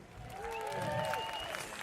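Audience applause at the TD Jazz Niagara Festival's 10th anniversary: a steady patter of hand clapping from a crowd, with some high tonal whistles or cheers threaded through, holding for about two seconds before easing slightly.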